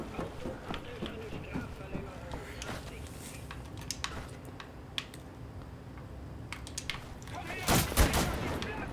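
Gunfire from the shooter game Wolfenstein: The New Order, scattered sharp shots in the mix with a louder burst near the end, heard over faint game ambience, with a player talking.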